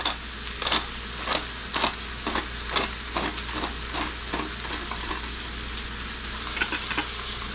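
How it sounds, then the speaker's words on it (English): Gritty, rhythmic grinding clicks of a nearly empty pepper mill repeat about twice per second over a steady sizzling background, close and fairly quiet. "Sounds like my pepper mill needs reloaded."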